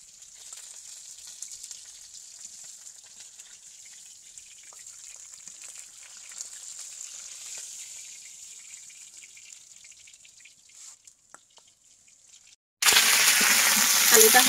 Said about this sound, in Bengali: আলুটা হালকা ভেজে নিচ্ছি।